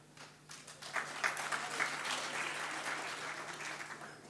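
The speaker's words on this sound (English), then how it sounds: "Clap at the end, you're using my minutes." Applause from members in a parliamentary chamber, a steady broadband patter of many hands that swells after a second and holds at moderate level, somewhat distant and roomy.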